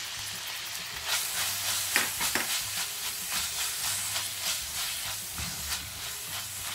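Peppers fry with spices, coriander and parsley, stirred in the pan: a steady sizzle and hiss runs throughout, with louder scraping bursts from stirring around the two-second mark and near the end.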